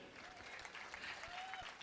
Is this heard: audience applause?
yes